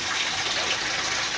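Clean water flows steadily from a narrow black return hose back into a CNC machine's water system, a continuous close, loud rushing gush with no pauses or voices.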